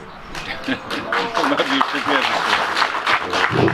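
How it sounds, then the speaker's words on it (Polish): Applause at awards for a carp fishing competition, a crowd clapping close by, mixed with voices speaking over it. "Dziękujemy bardzo za oklaski"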